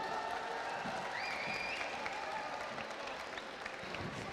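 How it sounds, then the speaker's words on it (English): An audience applauds a speaker taking the stage at a conference, a sustained, fairly faint patter of many hands clapping, with a brief tonal sweep in the background. "Massive round of applause for John."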